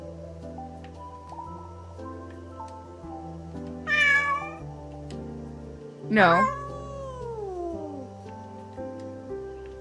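A calico cat in a video game meows twice, a short rising call and then a longer, louder drawn-out wail, over a steady synthesized music bed.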